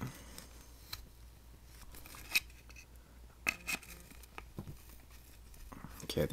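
A worn flush cutter snips through a plastic bumper mount for a Traxxas Stampede 2WD, giving a few faint, crisp clicks and cuts spaced a second or so apart in a quiet room.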